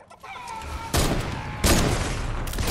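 A sniper rifle fires in Fortnite, with two sharp broadband shots about three-quarters of a second apart, followed by a further crack and dense game ambience in the background.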